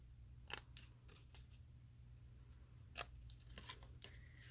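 Several quick, crisp scissor snips cutting paper scraps in short bursts, close and fairly quiet, over a low steady hum with no talking.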